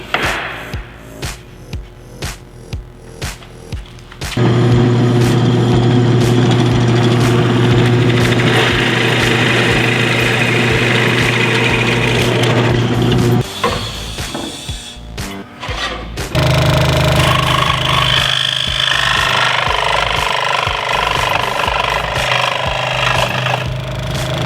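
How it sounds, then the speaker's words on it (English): A scroll saw cuts fillets for a wooden bluebird birdhouse, its rapid chattering blade loud and close. It runs in two long sustained stretches after a few short starting bursts, with a brief drop in between. "I'm gonna take that to the scroll saw and cut some fillets."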